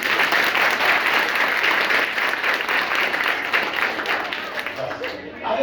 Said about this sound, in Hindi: एक बार बच्ची के लिए जोरदार ताली।